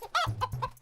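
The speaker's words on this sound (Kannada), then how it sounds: "ಮೋಟು, ಕೋಳಿ ಹಿಡಿಯೋದಕ್ಕೆ ಏನಾದ್ರು ಒಂದು ಐಡಿಯಾ ಕೊಡೋ." Cartoon chicken clucking in quick, close, choppy bursts, a short series of bright squawking clucks in under a second, loud against a quiet background.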